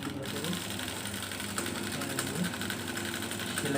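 Sewing machine stitching a garment, running as a continuous close mechanical whir with a steady motor hum and needle rhythm, with a voice heard faintly underneath.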